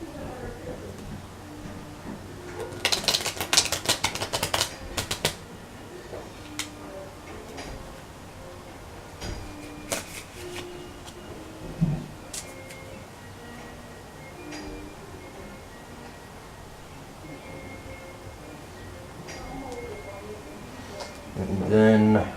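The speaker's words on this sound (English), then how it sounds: "just to ensure that the deck is thoroughly shuffled" A deck of playing cards shuffled by hand for a card trick, two short bursts of crisp riffling near the start and middle amid faint handling rustles, with talk running throughout.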